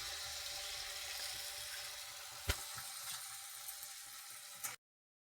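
Malpua made of maida flour frying in hot oil over medium heat, a steady soft sizzle with a couple of faint clicks, ending abruptly.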